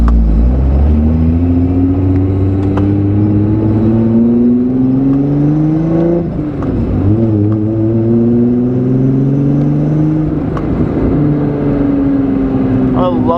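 A supercharged VR6 engine in a car accelerating through gears, a loud rising drone with whining supercharger tone, two brief dips at gear changes before climbing again, continuous and close throughout.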